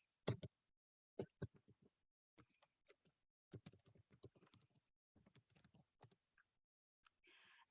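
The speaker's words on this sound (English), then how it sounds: "You will type in their email addresses here" Email addresses being typed on a computer keyboard, heard as quiet, close key clicks in short irregular bursts separated by brief pauses, alone without any talk.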